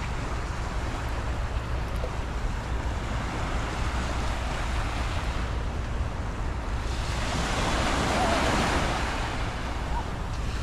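Strong waves breaking on Ras Tanura beach in Saudi Arabia's Eastern Region, a steady loud roar of surf with wind noise on the microphone, swelling louder toward the end.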